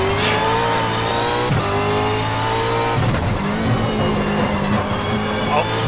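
Engine revs and downshift blips from a car in a racing simulator game rise and drop repeatedly, loud and close, with a few sharp transient knocks and a voice speaking briefly over it.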